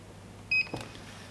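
A short electronic keypad lock beep rings out when locking, followed by a soft click, against a quiet background hum.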